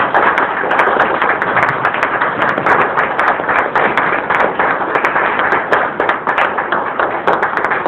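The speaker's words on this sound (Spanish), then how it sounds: "Dale un fuerte aplauso al Señor." A church congregation claps loudly together, a dense, steady wash of hands that carries on without pause for the whole stretch.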